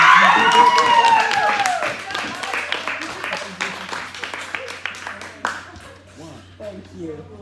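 Audience applause at a LEGO building competition at a Brentwood, Tennessee store, with loud clapping and cheers at first that thin out into scattered claps, while voices talk over it.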